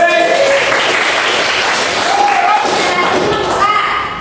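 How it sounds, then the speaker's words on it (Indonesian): A vocational high school class of students claps together in a classroom, a loud, steady wash of applause lasting a few seconds with a few voices mixed in. "tepuk tangan."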